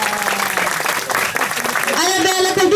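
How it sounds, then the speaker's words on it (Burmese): Audience applause at a 2019 Christmas gathering of the HBC mission field in the Ngaphe/Minhla area, Sinyin village, sustained throughout and mixed with a speaking or singing voice over it. "အားလုံးလက်ခုပ်တီးပေးရနော်"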